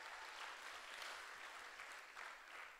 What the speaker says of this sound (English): Can we give Caleb a round of applause,